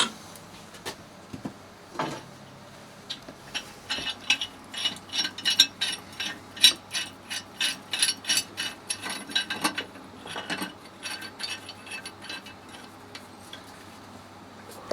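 Grips work a union fitting loose on a water meter, giving a run of close, sharp metallic ratcheting clicks in an irregular rhythm that peaks midway, with a couple of louder knocks and quiet stretches around them.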